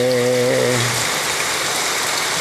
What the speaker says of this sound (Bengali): কি সুন্দর গড়গড়ায় বৃষ্টি পড়ে